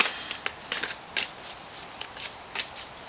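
Tarot cards are shuffled by hand in a series of soft, crisp riffling bursts separated by brief pauses, close and alone with no talk.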